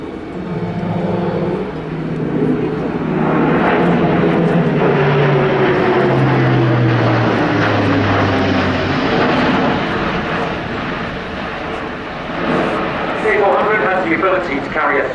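Boeing C-17 Globemaster transport jet making a simulated drop-zone pass at up to 285 knots at the RIAT airshow, a loud sustained engine roar with a falling whine as it passes, under a commentator's talk.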